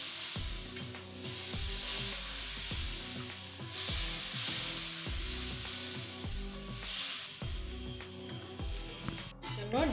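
Chita roti batter is flicked onto a hot pan over very low heat, giving a steady close sizzle with repeated soft dabs and bursts at a regular rhythm.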